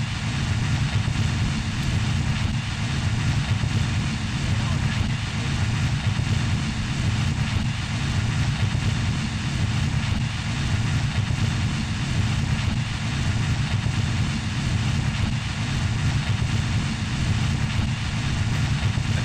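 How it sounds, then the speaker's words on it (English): A turboprop engine runs in Kerbal Space Program during a climb, producing a steady, loud droning hum with a low rumbling base that holds constant throughout without pause or talk. "this is the way I would use a turboprop engine"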